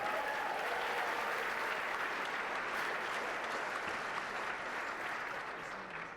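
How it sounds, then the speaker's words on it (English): An audience at an awards gala applauds, a dense, steady wash of clapping from many hands that holds for about six seconds and fades slightly at the end. "How about another round of applause for Liz Manley?"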